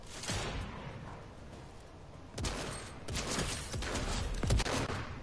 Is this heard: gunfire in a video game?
yes